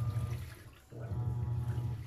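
A washing machine churns laundry and throws water about, a steady low sloshing rumble with a brief dip before the agitation resumes, close by with no talking.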